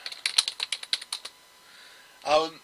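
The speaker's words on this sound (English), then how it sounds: "I'm going to type it out here." A quick burst of typing on a computer keyboard, about a dozen crisp close keystrokes in a rapid run, followed after a short pause by a brief voice.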